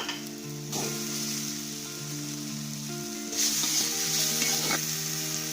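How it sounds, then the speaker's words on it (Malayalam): Spices sizzle with asafoetida and jaggery in a hot pan for rasavangi, a steady close frying crackle with faint stirring scrapes and a brief louder surge of sizzle partway through. "നന്നായിട്ട് ഇനി ഇതൊന്ന് വഴറ്റിയെടുക്കുക"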